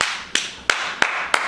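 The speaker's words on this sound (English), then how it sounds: "Clap it out." Four sharp, evenly spaced claps ring out alone at moderate loudness, each a crisp smack with a slight decay, in a comedy talk setting.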